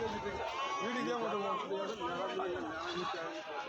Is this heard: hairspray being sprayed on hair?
no